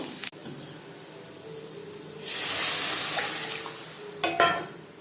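Chilies, panch phoron spices and chopped onions hit hot oil in a pan for masoor dal, bursting into a loud sizzling hiss that swells, holds, then subsides with a stir and a few clatters.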